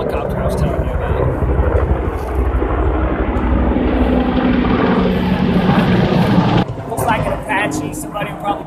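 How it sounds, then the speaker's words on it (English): A helicopter passes overhead with a loud, sustained roar that swells and then cuts off abruptly near the end, while a voice talks over it. "Here comes that helicopter I was telling you about."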